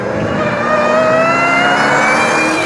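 A modified Sur-Ron electric dirt bike motor revs with a loud, continuous whine that rises slightly in pitch, sustained and close with no talk.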